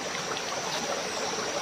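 A provincial river stream rushes steadily and fairly loudly, a continuous close wash of flowing water with no voices.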